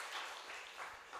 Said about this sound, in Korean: 하나님께 영광의 박수 크게 올립니다